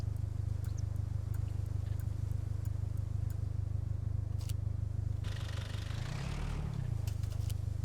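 A vehicle engine idles steadily in the SCUM survival game, a constant low rumble running the whole time with faint clicks and a brief rising mechanical swell near the end.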